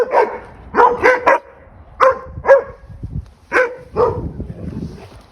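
A pack of puppies barks and yips in repeated bursts close by, with short gaps of whimpering and scuffling play between the barks.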